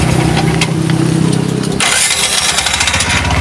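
A Bajaj RE three-wheeler engine cranks with a labored whir, then catches and settles into a rough, rapid putter, loud and close.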